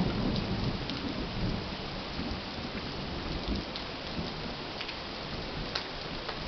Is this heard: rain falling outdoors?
yes